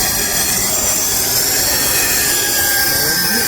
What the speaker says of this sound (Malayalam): ഒരാൾ മാർക്ക് ചെയ്യുന്നു മറ്റൊരാൾ കട്ട് ചെയ്യുന്നു എഡ്ജ് പിടിക്കുന്നതാണ് കേട്ടോ